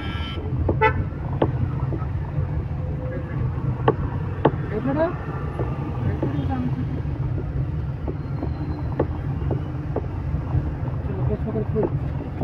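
Car pulling away after the clutch is released during a driving lesson, giving a steady low engine and road rumble with wind noise and a few faint clicks, while people talk inside the car.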